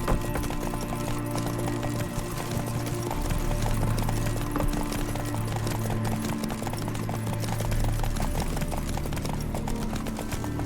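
A horse gallops steadily in The Witcher 3, its hooves beating a fast, continuous clip-clop rhythm close up, with a faint background hum and no talk over it.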